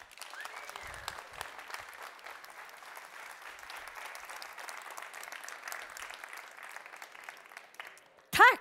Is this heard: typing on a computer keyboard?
no